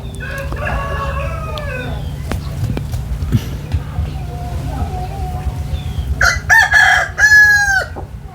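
A rooster crows loudly and close by in a rural Thai home yard in the early morning, with earlier calls followed by a strong burst of crowing near the end over a steady low background hum.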